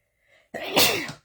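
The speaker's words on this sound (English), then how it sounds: "So, I have to sneeze." A single loud, close person's sneeze, with a faint intake of breath just before the sharp explosive burst that trails off within a second.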